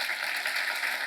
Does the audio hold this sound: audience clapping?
yes